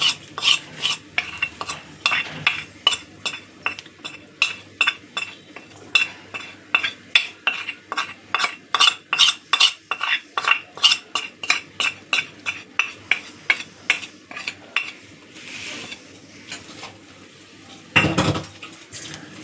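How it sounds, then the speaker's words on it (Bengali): A spoon scrapes and clinks rhythmically against a bowl while melted butter is stirred into a mixture for fried topse fish. The strokes are steady and close, and they slow and fade near the end. "এই বাটারটা দিয়েও ভালো করে মিশিয়ে নিচ্ছি"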